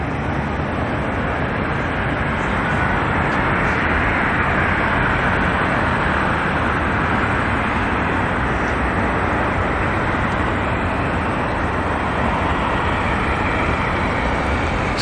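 Cessna Caravan taking off at Auckland Airport bound for Great Barrier Island, its broad steady roar filling the whole stretch, loud and unbroken.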